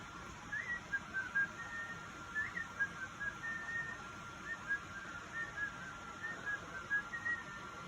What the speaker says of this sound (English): And she heard the little whistle.